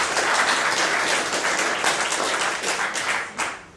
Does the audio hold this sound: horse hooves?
no